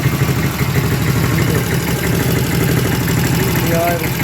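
A Honda Dream motorcycle with a recently fixed carburettor idles steadily and close while warming up, a continuous low putter with the idle speed gradually rising.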